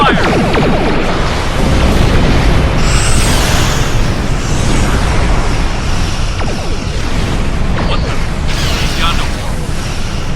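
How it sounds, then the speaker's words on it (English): Starship weapons in the Star Trek Online game fire in a dense, loud barrage of mechanical whirs, booms and explosions, continuous and layered throughout. "Computer, arm all weapons and fire!"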